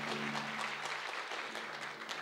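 Audience applause at a sister cities signing ceremony between the City of Longmont and the Northern Arapaho, a dense, steady clapping from a crowd lasting a couple of seconds.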